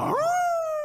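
A single dog howl rises sharply, then holds a long, steady, clear wail on its own, close and fairly loud.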